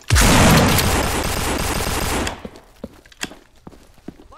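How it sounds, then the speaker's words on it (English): In Half-Life 2 Deathmatch, a loud, rapid burst of automatic gunfire lasts about two seconds. It is followed by sparse mechanical clicks and clacks from reloading, then quieter footsteps. "Always like reloading after I shoot a couple times."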